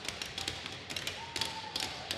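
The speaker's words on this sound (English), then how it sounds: "And Cape Breton banging their sticks on the boards as the time winds down, and they'll get the shutout for Felix Torni" Sharp, irregular taps and clacks repeat in scattered bursts, like sticks rapping on rink boards, over a low hum of arena noise.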